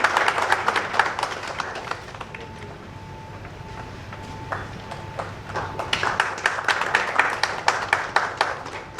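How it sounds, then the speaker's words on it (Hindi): Audience applause welcoming honored guests at a Hindi book launch ceremony, a dense, steady spread of many hands clapping that swells toward the end, with a faint sustained tone running underneath. "तालियों के साथ स्वागत करें।"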